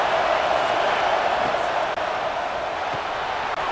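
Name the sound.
stadium crowd cheering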